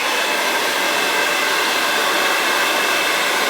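A hair dryer fitted with a nozzle blasts air at the hair roots, a loud, steady, close whooshing roar that holds unchanged throughout with no talking.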